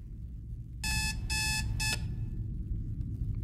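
In a horror video game, an electronic alarm clock rings in three quick bursts of shrill, buzzing beeps, loud and alone over a low, rumbling background.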